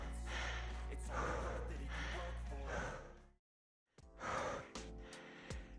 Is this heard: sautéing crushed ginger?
no